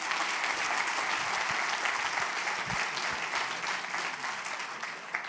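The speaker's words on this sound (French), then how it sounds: "Je vous remercie d'applaudir les 2 Réunionnais que nous avons dans la salle" An audience applauds at the opening plenary of the Cap Créa 2022 conference, a dense, steady wash of clapping from a large hall that carries on loudly for the whole stretch with no talk over it.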